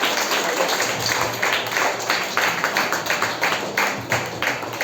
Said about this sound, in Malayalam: ഒരു വലിയ കയ്യടി നൽകിക്കൊണ്ട് റിയോണയെ നമുക്ക് സ്റ്റേജിലേക്ക് ക്ഷണിക്കാം